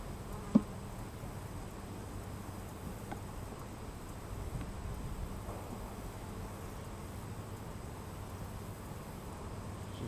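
Honeybees buzzing during a first hive inspection of two new hives, a steady low drone filling the air throughout, with one sharp tap near the start and no talking.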